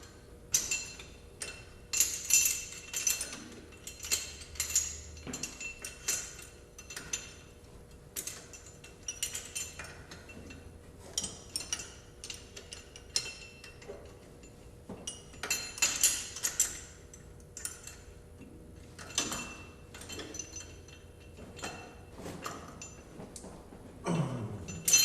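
Metal clinks and ratcheting ticks from 1/2 inch and 7/16 wrenches snugging bolts on a Can-Am X3 primary clutch shaft, intermittent sharp taps and rattles, close and fairly quiet amid pauses.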